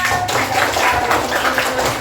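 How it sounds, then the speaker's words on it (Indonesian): A classroom of pupils claps hands together during a civics lesson, producing a brief burst of scattered, overlapping claps at close range with a faint murmur of voices beneath. "Tepuk tangan."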